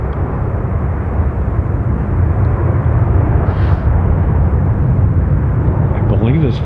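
An Aeromexico airliner at San Francisco International Airport gives off a loud, steady jet roar that swells slightly midway and stays broad and continuous throughout.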